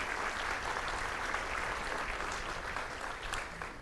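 Luncheon guests at a Covington Business Council gathering applaud board members and elected officials: broad, even crowd clapping heard from across a room, steady throughout and easing slightly near the end.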